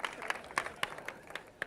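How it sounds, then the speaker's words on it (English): Sparse clapping from a small audience at a 2002 Xbox press conference: a handful of separate, light claps scattered unevenly, fairly faint and with no voices over them. "that's all the people with small hands clapping"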